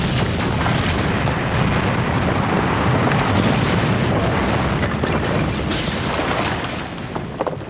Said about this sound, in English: The explosion sent Harry flying across the cave and brought down a considerable chunk of the roof.